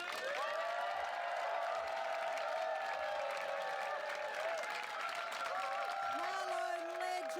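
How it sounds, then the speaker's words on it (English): A comedy special audience claps and cheers steadily as a comedian is introduced, a dense sustained wall of applause with shouts and whistles, heard from within the crowd. "Clap your hands, lose your minds, go absolutely crazy for Kirsty Webeck."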